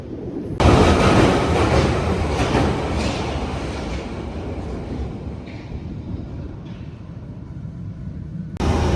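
A London Underground metro train at Holborn station, loud and close throughout: a broad rumbling roar with rattling wheels and screeching brakes as it pulls in, with no voices over it.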